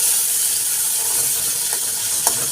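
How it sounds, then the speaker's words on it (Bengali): Onions fry in a pan with a steady, loud hiss and sizzle, a couple of faint stirring clicks near the end. "প্রথমে আমরা দিয়ে দিয়েছি পেঁয়াজ। এখন আমরা একটু কষাবো।"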